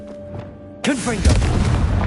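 A Confringo blasting spell explodes in Hogwarts Legacy: a sudden loud boom bursts in after a quiet stretch with a droning tone, then rumbles and crackles with whooshing debris.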